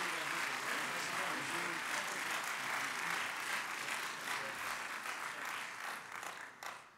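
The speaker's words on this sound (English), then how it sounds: "how about a round of applause for all our panelists here?" Audience applause for the panelists after a national security Q&A panel, steady moderate clapping across the room that continues evenly and fades near the end.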